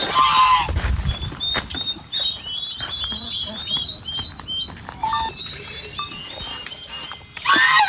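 High, thin peeping from a cluster of turkey chicks, continuous and overlapping, with a few louder calls and brief sounds at the start and end.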